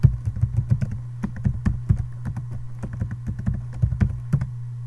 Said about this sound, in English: Enter your email or username for the school district.